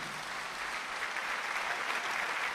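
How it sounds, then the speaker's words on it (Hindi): Steady audience applause fills the hall at a Jashn-e-Urdu mushaira and kavi sammelan in Dubai, a dense, even wash of many hands clapping at once that holds at a constant level throughout. "तालियां बजाकर एतराफ़ कीजिए"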